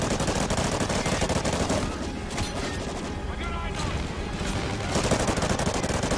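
A Bizon submachine gun fires in the Call of Duty Ghosts campaign, with dense, loud bursts of automatic gunfire and explosive clatter that carry on almost without a break, and a voice is mixed in.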